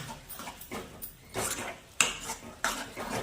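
Meal maker (soya chunk) curry being stirred in a pot with a spoon, with several clear scraping and clinking strokes against the metal, close and moderately loud, with no talking.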